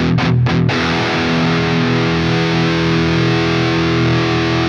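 A heavily distorted electric guitar chord through a high-gain amplifier, choppy for a moment at the start, then held and ringing loud and steady with thick overdriven sustain.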